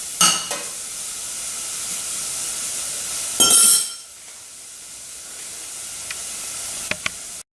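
Vegetables for spicy peanut noodles sizzle and get stirred in a pan, a soft hiss broken by a few sharper clatter bursts near the start and middle, then a quieter steady fry.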